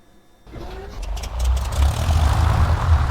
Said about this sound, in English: the engine is about to start